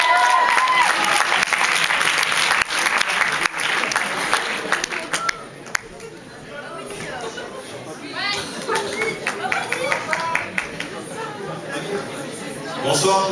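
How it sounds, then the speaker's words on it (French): A comedy show audience applauds loudly, dense clapping that fades into chatter, then a second burst of clapping with voices mixed in. "je vais vous demander d'applaudir une deuxième fois"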